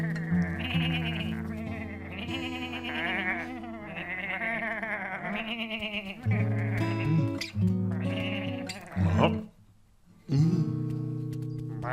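Animated cow in a children's story bleating 'mee' like a sheep instead of mooing, with a series of wavering, sung bleats over light background music, close and clear, with a short pause near the end.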